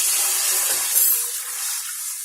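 Water is poured into a heated pot in a kitchen, a close, bright rushing hiss that runs steadily and then eases slightly toward the end, with no talking.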